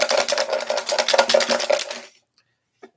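Draw lots are shaken inside a lidded pot for a random seeding draw at the UCI 2021 Masters and Seniors event, giving a dense, rapid rattling clatter for about two seconds before it stops abruptly.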